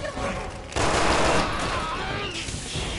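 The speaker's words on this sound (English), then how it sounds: "I swear to God, I shot like 50 times." Rapid gunfire from the Resident Evil 6 video game, a dense, sustained fusillade of shots that starts abruptly and stays loud throughout, with no pauses between bursts.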